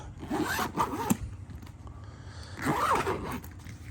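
A zipper closes on a DJI Mavic Air 2 drone backpack in two quick raspy pulls separated by a short pause, close and clear with no talking.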